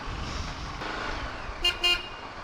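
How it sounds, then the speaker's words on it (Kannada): A Yezdi Adventure motorcycle horn gives two short, thin toots near the end, heard over a steady background rumble. "ಹಾರ್ನ್ ಡಬ್ಬಾ ಥರ ಇದೆ."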